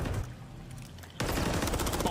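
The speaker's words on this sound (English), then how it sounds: "the rattle of gunfire" Rapid gunfire rattles in a competitive video game match, a dense, loud burst of automatic shots that starts abruptly and keeps going steadily to the end.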